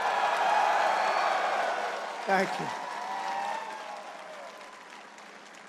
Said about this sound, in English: let's give a big round of applause to the men and women of the majestic